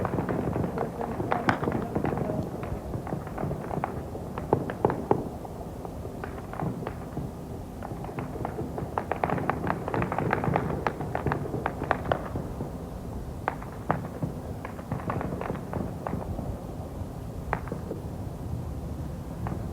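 Several hundred gunshots ring out as a crowd of 3,000 to 5,000 moves toward the White House during the October 1993 crisis, a long run of rapid, distant cracks and bursts over a rumbling outdoor background with faint voices.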